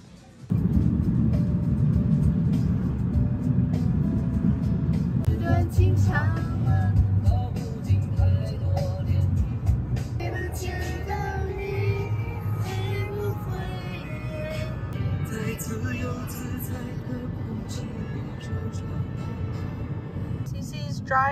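Steady road and engine rumble from a car driving along Highway 401 near Toronto, a continuous low drone with occasional passing-vehicle swells and faint clicks over the whole stretch.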